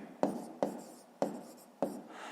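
Pen marks on paper during a fifth-grade maths exercise: four distinct scratchy strokes spaced roughly half a second apart, close and clear with no talk.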